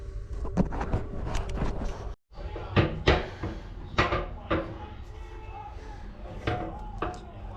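Several sharp metallic clanks and knocks of a small pot belly stove door being opened and shut, close by, with a brief pause midway and some handling noise.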